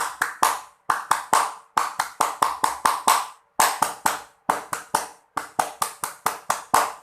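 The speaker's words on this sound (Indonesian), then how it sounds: "Kakak minta adik-adik 2 kali tepuk pramuka." Pramuka scout clap pattern performed twice by a group, sharp rhythmic bursts of hand claps in grouped beats with short pauses between phrases, close and crisp.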